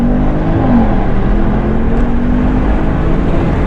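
A Porsche Panamera Turbo S E-Hybrid with a 4-litre twin-turbo V8 makes a steady, loud engine drone with slight rises in pitch as the throttle is tapped, continuous throughout with no talking.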